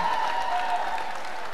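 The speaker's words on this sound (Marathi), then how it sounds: "माझ्या चारही पथकांसाठी जोरदार टाळ्या" Brief burst of crowd applause for four Govinda teams at a Dahi Handi premier league event, a dense wash of clapping, steady and moderately loud throughout.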